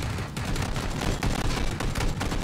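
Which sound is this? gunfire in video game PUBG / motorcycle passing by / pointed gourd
gunfire in video game PUBG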